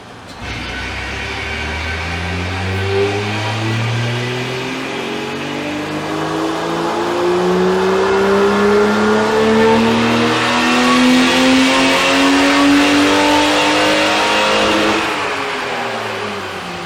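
A BMW E30 325i's engine is driven through an acceleration pull, climbing steadily in pitch as the revs rise through the gears, loud and close with no talk over it.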